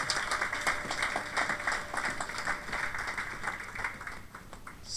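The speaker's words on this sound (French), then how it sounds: "applaudissez très fort pour Jésus-Christ" A church congregation applauding during a sermon, a steady moderate patter of many hands clapping for several seconds, somewhat distant.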